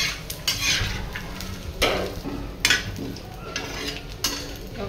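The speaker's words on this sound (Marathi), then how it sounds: "अशी असं भाजून घ्यायचं." Masala for a cowpea curry being dry-roasted in a pan, a spoon scraping and clinking against the metal in repeated stirring strokes, close and moderately loud over a faint low sizzle.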